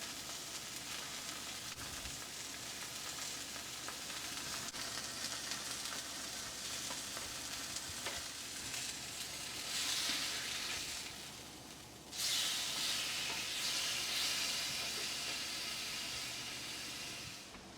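Steak and onions frying in a hot pan, seasoned with salt and pepper, giving a continuous loud sizzle and hiss that swells twice with bursts of stirring and fresh spatter.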